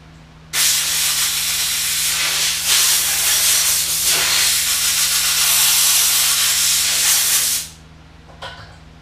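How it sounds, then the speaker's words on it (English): An air compressor nozzle blasts air to dry an SKS rifle muzzle brake, giving one loud, steady hiss that runs for about seven seconds before cutting off, followed by a faint brief puff. "just go hit it with the air compressor to completely"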